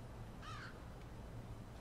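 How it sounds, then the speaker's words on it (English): In the game LIMBO, a single crow-like caw, brief and moderately clear, over a steady low background hum. "Birds. I love the sound of birds."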